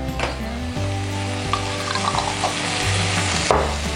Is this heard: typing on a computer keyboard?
no